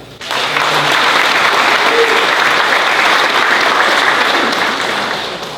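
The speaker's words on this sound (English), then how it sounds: "more round of applause for Joe Kennedy" A large audience at the Summerstrong event breaks into loud, sustained applause that starts abruptly, stays dense and even, then fades slightly at the end.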